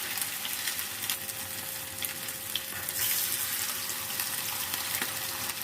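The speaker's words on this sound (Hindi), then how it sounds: "अभी हम ऑयल में फिश को फ्राई कर लेते हैं।" Fish frying in heated oil over a normal flame gives off a steady, dense sizzle that crackles continuously throughout, fairly close and with no voices.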